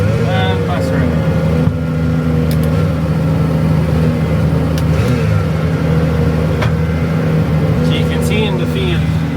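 A tractor pulling a plough through a field runs at open throttle, a loud, close, sustained engine drone with a steady low rumble, while someone talks over it.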